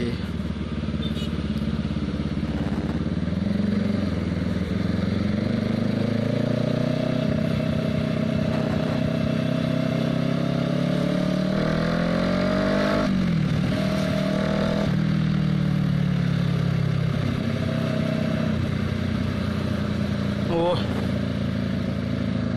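A 2013 Kawasaki 650cc motorcycle engine runs steadily throughout, its pitch rising and falling with revs, while people talk nearby over the rumble.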